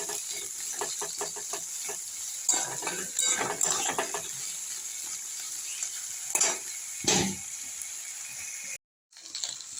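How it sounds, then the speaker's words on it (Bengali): Potatoes fry until reddish in a pan on a home stove, giving a steady close sizzle broken by repeated scraping and clinking as they are stirred, with a brief silent gap near the end. "এবার আলুগুলো একটু লাল করে ভেজে নেব।"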